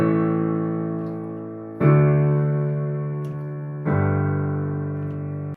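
Three sustained chords from a song, each struck and left to ring for about two seconds before the next, close and clear with no voices.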